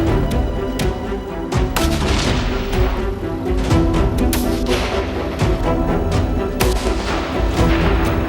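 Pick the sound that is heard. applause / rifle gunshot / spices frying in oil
rifle gunshot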